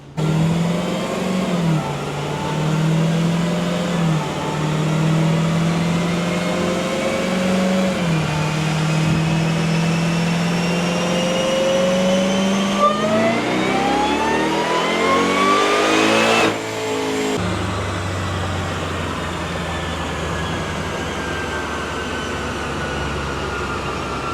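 Dodge Hellcat V8 on a dyno, held loud and steady at first, then climbing sharply in pitch as it revs through a pull before abruptly dropping off to a lower idle-like drone, with no talk.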